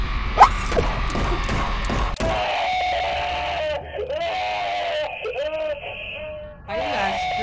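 Screams and harsh, distorted cries from the horror video game Blood Wash, loud and layered over game noise with thuds and whining tones, with a voice talking alongside.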